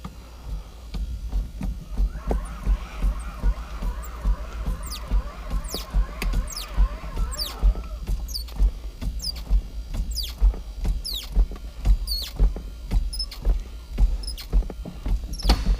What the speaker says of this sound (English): now we're going to select gear up, and we're going to pump with the hand pump